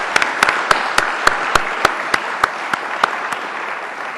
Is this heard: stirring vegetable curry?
no